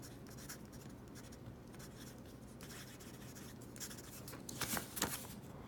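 A Lamy fountain pen with a medium nib scratching across paper, a soft, quiet scrawl of short strokes that grows busier and a little louder toward the end.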